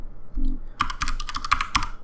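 Typing on a computer keyboard while entering an npm install command, a quiet run of crisp key clicks followed by a denser burst of rapid, close-up keystrokes.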